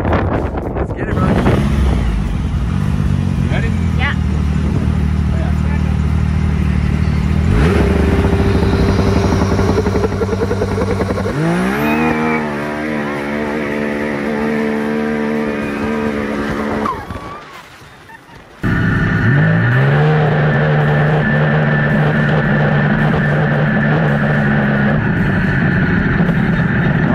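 A Can-Am X3 side-by-side built for drag racing makes loud back-to-back passes at a cinders drag race, its engine revving high with rising harmonic sweeps, a brief drop near eighteen seconds, then a sustained roaring pull.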